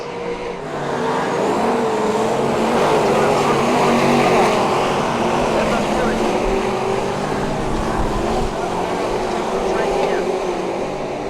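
Speedway race cars roar around a dirt track in a steady, loud, dense engine drone that swells slightly mid-pass, with a commentator's voice running over the racing.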